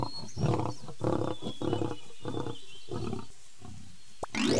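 A lion roars in a series of six or seven deep, heavy pulses in a steady rhythm, loud and close with no other voices, followed by a brief sharp sweep at the end.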